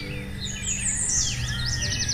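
A sparrow chirps in quick, bright, twittering bursts close by, a rapid run of tweets over a faint low background hum.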